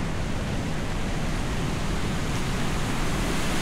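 Steady, full-bodied rush of water falling at Honnamma Halla, a hidden man-made waterfall in shola forest, heard close and loud as a continuous broadband roar with no voices.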